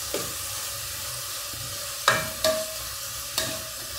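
Onions fry in a pan with a constant hissing sizzle, interrupted by a few sharp scraping stirs of a utensil, close and fairly loud.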